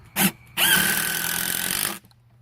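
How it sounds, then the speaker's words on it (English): A cordless power drill drives a screw into the side of a wooden board for a chicken picnic table, a short blip followed by a steady loud whirring run of about a second and a half, then stopping. "I want to go ahead and shoot some screws into the side right here first"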